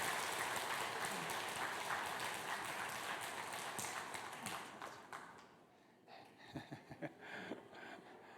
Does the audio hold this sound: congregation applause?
yes